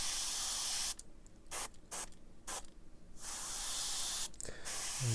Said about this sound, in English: So, I'm just getting the paint off the nozzle. So let's try it. This is on 20 psi.